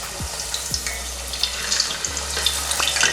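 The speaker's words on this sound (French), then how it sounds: "je vais maintenant commencer à frire puisque mon huile a chauffé" Cassava chips sizzle and crackle in hot oil, a loud, close, steady frying hiss with a few low thuds as pieces drop into the pan and no talking.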